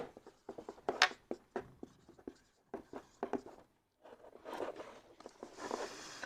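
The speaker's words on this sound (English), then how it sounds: "I am just like writing it down." Pen scratching across paper as someone writes a note, in short separate strokes with brief pauses, close and fairly quiet, ending in a denser run of scribbling.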